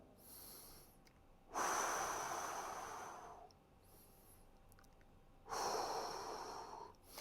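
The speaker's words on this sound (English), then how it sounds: "Breathe throughout the movement." Breaths during a full-body stretching routine: two long, strong airy exhalations with quieter breaths between them, close to the mic and with no talking.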